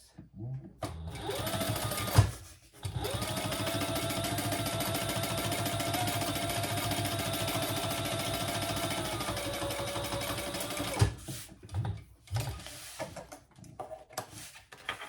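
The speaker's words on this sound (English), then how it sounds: "top stitch on the bottom accent piece" A sewing machine runs a long, steady burst of top stitching on a wristlet's bottom accent piece, near and continuous, with brief stops and clicks before and after.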